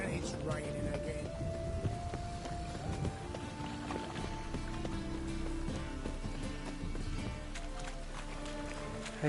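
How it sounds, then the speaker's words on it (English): Rain in The Witcher 3: a steady, dense hiss pours down without a break, with soft sustained musical tones drifting above it. "And it's raining again."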